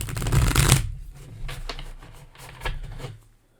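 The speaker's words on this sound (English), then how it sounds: "I'm going to shuffle this deck 3 times." A tarot card deck being shuffled close up, starting with one loud riffling burst and then several softer, separate flutters and snaps of the cards. No one speaks.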